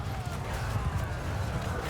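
Hooves of a horse galloping in the Mount & Blade II: Bannerlord video game, a steady low drumming rhythm running throughout under dense game ambience and faint background voices.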